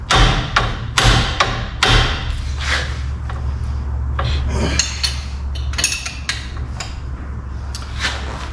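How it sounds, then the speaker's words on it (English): A spanner is struck to crack a tight nut loose during clutch replacement on a Mitsubishi Triton, giving several sharp, close metallic thuds and taps at irregular intervals over a faint rumble. "giving the one on the nut a bit of a hit and it just cracks them"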